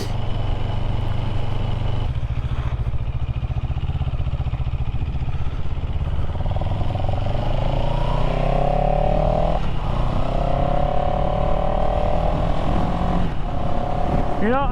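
A motorcycle being ridden on a windy vacation road trip, its engine droning steadily and rising in pitch as it speeds up, under constant heavy wind rumble.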